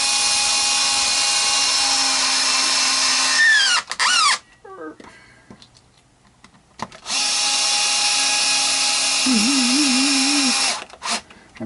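A power driver turns the neck screws on a Telecaster during a neck swap, two close whining bursts with shifting pitch, split by a short pause with a few light clicks.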